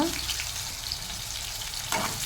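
Onions, green chillies and tomato fry in oil for gongura mutton, making a loud, continuous sizzle up close with a brief stir near the end.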